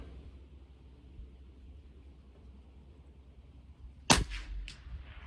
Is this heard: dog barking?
no